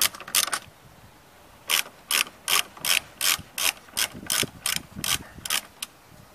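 A ratchet with a long socket loosens two 10 mm nuts, clicking in short, regular bursts of rapid pawl ticks, close and clear with no talking.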